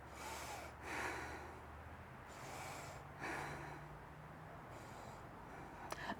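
Slow, deep breaths during a yoga pose, several long inhales and exhales in a steady rhythm, close and soft over a low room hum, with no talking.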